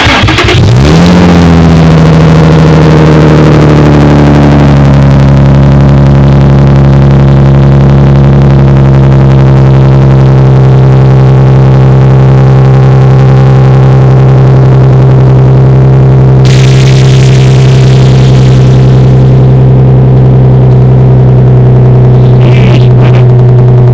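A Honda DC5 engine fires up and revs while driving, a loud, sustained drone holding steady under load with a brief rise in whoosh and noise partway through.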